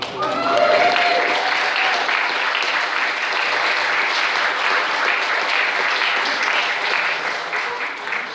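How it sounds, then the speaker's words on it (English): An audience applauds executive director Nancy Proctor at the Peale Center, a dense, even wash of many hands clapping that swells quickly, then holds loud and steady for several seconds before easing slightly at the end. "I think she deserves a round of applause for that"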